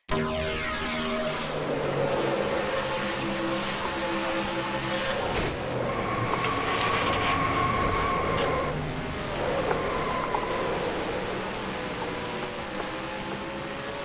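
Stock cars in the NASCAR Racing 2003 sim race through a wreck, their engines a loud, continuous roar with rising and falling pitch as they pass.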